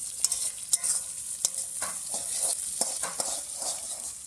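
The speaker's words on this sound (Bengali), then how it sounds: "টমেটোটা দিয়ে দিলাম। এবার ভালো করে ভেজে নেবো আমরা।" Chopped tomatoes frying in oil for a goat curry, a bright continuous sizzle with repeated scraping strokes of a spoon stirring the pan, close and alone.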